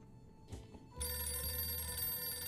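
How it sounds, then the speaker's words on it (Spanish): A telephone in the video game 60 Seconds starts ringing after a soft knock or two, its bright electronic bell tone sustaining steadily and fairly quietly to the end. "Teléfono. Pero si no tenemos."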